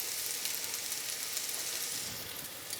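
Sliced onions cooking over medium-low heat in a pan, with granulated sugar sprinkled over them, give a steady, soft, even sizzle throughout, ending with a small sharp click.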